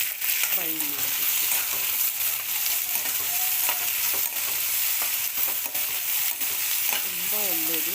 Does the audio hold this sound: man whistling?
no